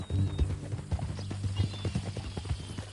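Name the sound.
horse hooves clip-clopping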